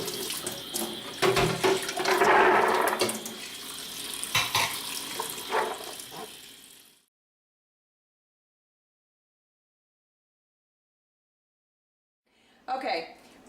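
A running tap splashes into a container as beans are rinsed for falafel, a close, fairly loud gushing with clatter that stops abruptly midway, followed by silence and then a short burst of water again.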